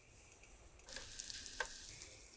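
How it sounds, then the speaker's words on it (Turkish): Cabbage and liver mixture hits an oiled frying pan, a faint steady hiss that swells into louder crackling sizzle about a second in, with a few sharp pops, no voices. "Karışımı bitkisel yağlı tavaya koyun."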